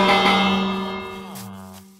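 A village bell rings in Minecraft: one loud, bright metallic strike with a long, sustained ringing tone that slowly fades over about two seconds.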